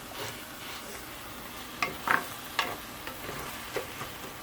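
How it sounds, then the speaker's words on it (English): Onions and tomatoes softening in a pan for eggplant sabji: a steady low sizzle with several spatula scrapes and mashing knocks spaced over a few seconds. "onions, they are getting softer. You're going to just mush it then with the spatula."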